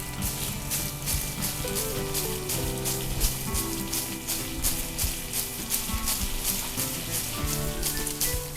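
A dense, continuous patter of small white sesame seeds falling and rattling during threshing, like light rain on a surface, steady throughout.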